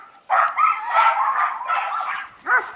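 Pomsky puppies in snow give a run of short yips and barks that slide into a thin whimper near the end, close and fairly loud with no other sound around them.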